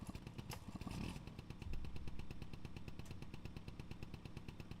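Moped engine in the farming game Farming Simulator 25 runs steadily throughout, a rapid, buzzing, regular put-put of close, fairly loud pulses with a brief rise in intensity near the start.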